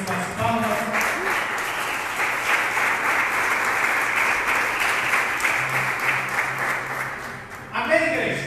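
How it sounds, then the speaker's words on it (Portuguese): Church congregation applauding to exalt Jesus, a sustained, even roll of many hands clapping for about eight seconds, moderately loud, with a voice speaking briefly at the start and end. "Podeis assentar e exaltar o Rei Jesus com as palmas."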